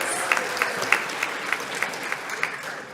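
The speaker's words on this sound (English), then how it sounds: "we'll give him a round of applause" Modest round of applause at a high school CTE and JROTC awards night, sparse individual claps audible in a roomy hall, fairly quiet and even, with no talking over it.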